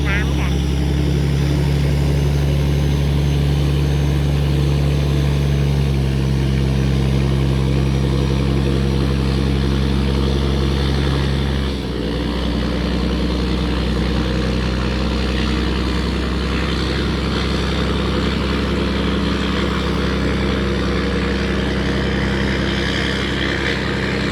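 A tugboat's engine drones steadily while it tows three large cargo barges up the Pa Sak River at Ayutthaya on a rising tide, a loud, continuous low rumble with a slight shift partway through.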